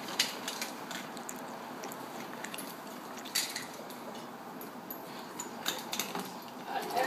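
The geared crank of a Joule's experiment apparatus grinds steadily, a continuous close rasping whir with faint metallic ticks and clinks scattered through it.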